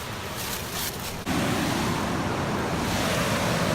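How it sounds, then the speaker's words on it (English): A waterfall pours with a broad, steady roar, close and loud, jumping abruptly to a fuller, heavier rush partway through and staying constant, with no voices. "And the waterfall."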